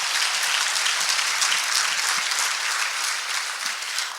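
An audience at an industry panel event gives a dense, sustained round of applause that stays loud and even throughout, with no speech over it.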